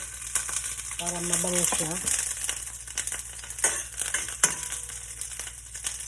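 Garlic and onion sauté in a hot pan with a steady, close sizzle and occasional stirring scrapes, while someone speaks briefly over the frying.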